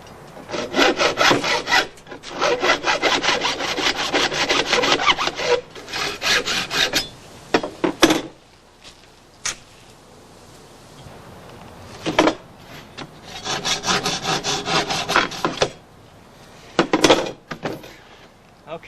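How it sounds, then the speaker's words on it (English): A hacksaw cuts through material while an exterior door is replaced. The rasping back-and-forth strokes come in bursts, with a pause in the middle before the sawing resumes, and there is no talk. "the best way to cut this with a hacksaw is lay it all the way directly across so that you get a line straight across"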